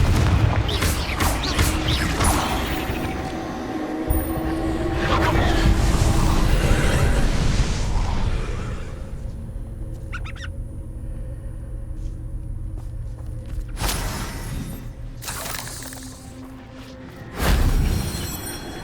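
Spell blasts in the Hogwarts Legacy video game, with Confringo fire-blast explosions booming and rumbling through dense combat noise, several loud bursts across the stretch and a final sharp blast near the end.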